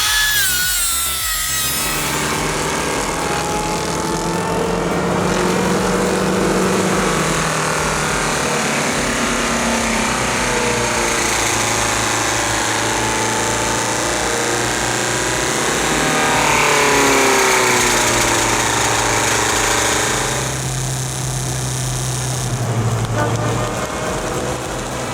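A Force 225 stump grinder with tungsten carbide hammer blades chews through a tree stump in one loud, sustained grinding roar, the machine's engine note rising and falling as the cutter bites into the wood.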